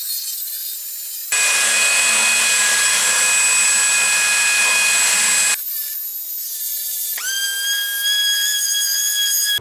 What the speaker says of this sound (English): This board is really rough, so I'm gonna hit it with the belt sander.